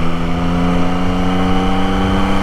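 A 2024 Yamaha MT-09 motorcycle engine hums steadily during a gentle break-in ride, kept at moderate revs with a constant drone and rushing wind noise, close and fairly loud, with no speech.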